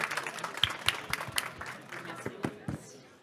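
Audience at a French startup pitch event applauds: a small group's scattered, uneven claps, fairly faint and thinning out toward the end.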